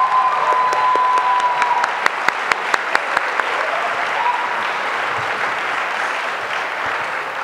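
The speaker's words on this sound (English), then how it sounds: "Let us have another round of applause for 2011's Queer Youth nominees and awardees." Loud, sustained applause from an audience at the 2011 Queer Youth Leadership Awards, dense clapping that holds steady throughout, with a few sharper individual claps standing out.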